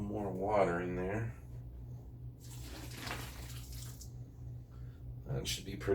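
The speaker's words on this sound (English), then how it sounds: "I'd say probably a little more water in there." Water is poured into dry seed-starting soil for flower seeds, a soft rushing splash lasting about a second, close by, with someone talking before and after.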